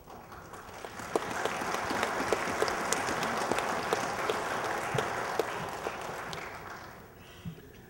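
Audience applause at a comic convention panel from DC at Planet Comicon 2013: steady, dense clapping from a sizeable crowd that holds for several seconds and then tapers off near the end.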